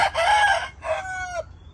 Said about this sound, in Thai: เพราะว่าไก่เขา ชินอยู่กับในคอกในเล้าครับ